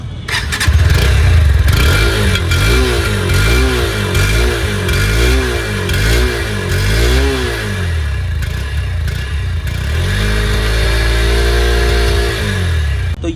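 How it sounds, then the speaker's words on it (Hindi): A Honda CB200X motorcycle with a dual-tone exhaust idles loudly and close, then revs repeatedly in rising and falling bursts before settling back into a steady, throbbing idle. "तो चलिए अभी हम आपको सुनाते हैं एग्जॉस्ट नोट।"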